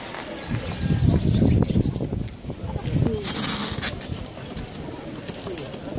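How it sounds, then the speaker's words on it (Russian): Artamon pigeons cooing at a busy outdoor bird market, soft low coos mixed with crowd chatter and market bustle nearby. "Артамоны, краснодарская птица."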